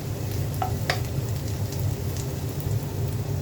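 Onion and garlic sautéing in a pan, a steady close-up sizzle and crackle of frying with a few faint clinks, with no voices.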